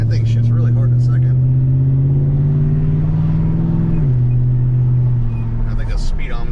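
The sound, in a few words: 2007 Chevrolet Silverado 4.8 V8 truck driving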